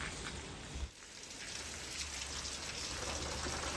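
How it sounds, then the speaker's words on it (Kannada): Steady rain falling on a garden full of potted plants during the rainy season, a dense, even hiss of drops with no one speaking. "ಎಲ್ಲ ಕಡೆ ಮಳೆ ನೀರು ಬಿದ್ದೇ ಬೀಳುತ್ತೆ"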